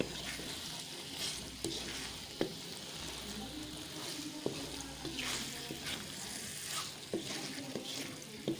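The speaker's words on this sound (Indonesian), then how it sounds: "Kita masukin ya bun ya, diaduk-aduk terus sampai merata." Food frying in a pan with coconut milk still to come, a steady close sizzle under repeated spoon scrapes and clinks as it is stirred continuously, no talk over it.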